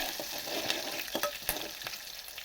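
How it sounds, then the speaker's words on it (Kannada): Garlic with cumin and mustard seeds frying in a pan for a South Indian rasam, a steady soft sizzle with light stirring scrapes and small crackles, close and alone with no voices. "ಇದನ್ನ ಫ್ರೈ ಮಾಡ್ಕೊಳ್ಳೋಣ"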